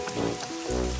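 Cartoon rain falls in a steady, dense patter across the whole short stretch, a soft wash of drops at an even moderate level with no voices over it.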